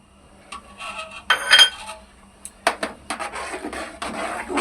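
Lauki kheer with cardamom stirred in a cooking pot: a metal spoon clinks and scrapes against the pot in short, irregular bursts with quiet gaps between them, close by.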